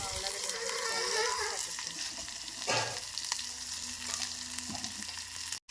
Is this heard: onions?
yes